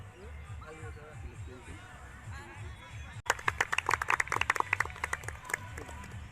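Halfway through, an audience bursts into loud, close, sharp clapping at a Railway Group D coaching celebration as sweets arrive. A low hum and murmuring fill the quieter stretch before it.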